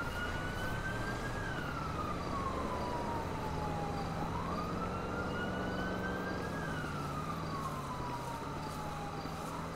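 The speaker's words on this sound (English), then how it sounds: "Shit, I hear sirens." A police siren wails, rising and falling in slow sweeps over a low traffic rumble, moderately loud throughout.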